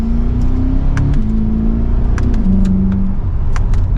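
A 2023 Chevrolet Corvette 3LT 70th Anniversary pulls hard from second gear, its engine note loud and steady from inside the car and rising as it builds speed, with no talk.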